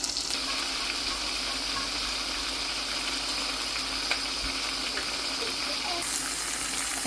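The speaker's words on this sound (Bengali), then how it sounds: "এখন দিয়ে দিচ্ছি এই গরম জল" Hot water poured steadily into browned, simmering chicken in a pot makes a continuous rushing, gushing wash of sound that runs evenly for several seconds without any talking.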